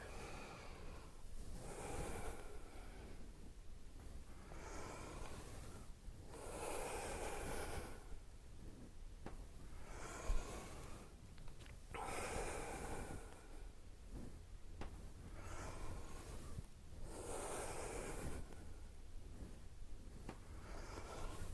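Deep, rhythmic nasal breathing during a short fire element yoga practice, with slow, even inhales and exhales repeating about every five seconds, close and clear with no talking.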